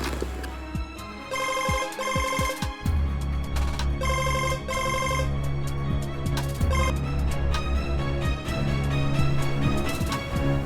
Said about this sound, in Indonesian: saya ada telepon